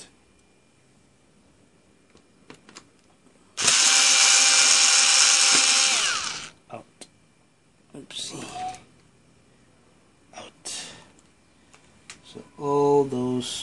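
A small electric screwdriver whirs in one loud burst of about two seconds while removing screws from an HP Pavilion dv7 laptop, followed by quieter clicks, taps and short mechanical buzzes.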